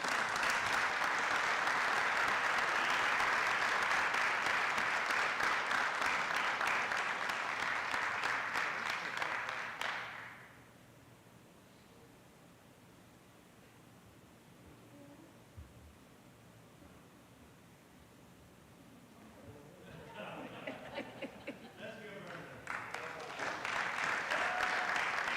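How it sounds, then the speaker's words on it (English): A city council meeting audience applauds honored city employees: about ten seconds of steady clapping, a quiet stretch of low room noise, then a second, softer round of applause with some voices. "So please give Caitlin and her husband a round of applause"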